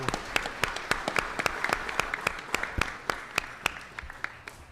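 Applause for champions at a Los Angeles city council meeting, steady clapping from a crowd with sharp individual claps standing out, moderately loud and continuous throughout.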